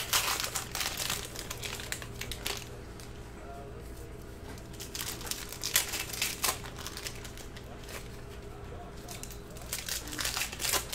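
Crinkly plastic cello wrapper of a 2019-20 Panini Mosaic basketball card pack being torn open and crumpled in repeated bursts, close and fairly loud, with a steady background hum.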